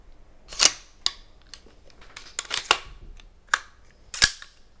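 AR-15 rifle being reassembled and function checked, with a series of sharp metallic clicks and snaps from the bolt locking back, the safety and the trigger, spread irregularly and heard up close with no talking.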